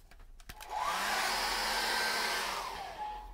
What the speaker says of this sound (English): I'm just going to dry that off a second.